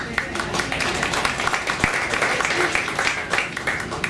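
An audience in a music venue applauds at a musical tribute, a dense, loud wash of clapping and crowd noise that holds steady throughout.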